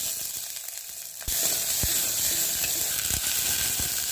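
Small onions frying in groundnut oil with mustard seeds, a loud steady sizzle jumping up after a sudden start, with occasional spoon clicks against the pan.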